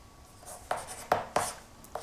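Chalk or marker strokes on a board as a trigonometry solution is written, four or five short scratchy strokes in an uneven rhythm, close and moderately loud, with no talking.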